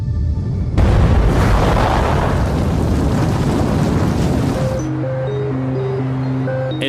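Torpedoes exploding underwater aboard the Russian nuclear submarine Kursk: a deep, loud rumbling boom bursts in and roars for several seconds before cutting off, followed by a low sustained tone with musical notes.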